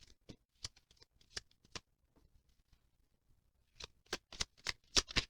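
Angel guidance cards being shuffled by hand, close and crisp, with scattered soft riffles followed by a quick run of sharp, louder card snaps near the end.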